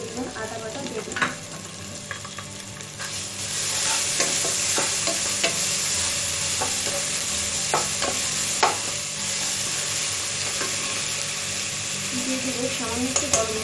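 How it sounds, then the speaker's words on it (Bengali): Onion and garlic frying with garlic and ginger paste while being stirred in a pan, giving a steady close sizzle with scattered scraping and clinking of the spoon and occasional faint talk. "আমার পেঁয়াজ এবং রসুনটা প্রায় ভাজা হয়ে আসছে।"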